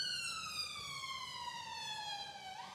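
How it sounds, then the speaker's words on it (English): An ambulance siren wails as it passes at a distance, one continuous tone sliding steadily downward in pitch, fairly faint against quiet background hum. "once the ambulance has gone past"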